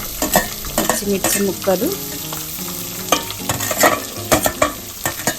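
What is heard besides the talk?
onion and carrot pieces frying and stirred in a pan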